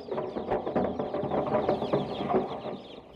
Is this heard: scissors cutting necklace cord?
no